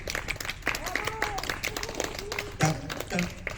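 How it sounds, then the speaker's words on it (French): Applause at an open-stage event for a local theatre actress, moderate clapping from a crowd heard under and between nearby speech and voices. "Vous pouvez l'applaudir"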